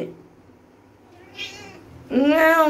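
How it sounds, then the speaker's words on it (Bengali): An orange cat gives a faint short sound, then a loud, close, drawn-out meow with a rising, wavering pitch near the end, in an otherwise quiet room. "ম্যাও ম্যাও"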